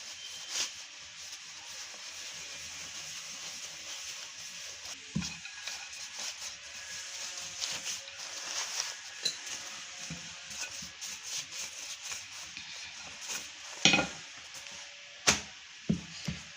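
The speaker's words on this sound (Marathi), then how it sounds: "मी तेल लावते आहे तुम्ही तूप पण लावू शकता मंद आचेवरती आपल्याला ही पोळी चांगली खरपूस भाजून घ्यायची आहे" Puran poli roasting in oil on a pan over low heat: a steady soft sizzle and rubbing hiss, with occasional louder scrapes and knocks from turning the flatbread, close and quiet, with no speech.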